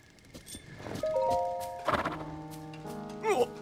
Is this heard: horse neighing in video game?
yes